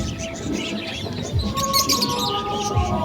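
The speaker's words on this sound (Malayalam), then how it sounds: "ഇത് തത്തൊക്കെ ഇവിടെ തത്ത" A parrot calls in a setting with other animals, giving a few sharp chirps and squawks against steady background noise, with no talk.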